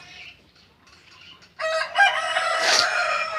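Chickens cluck softly at first, then a rooster breaks into a loud, close crow that rings out over the flock and carries to the end.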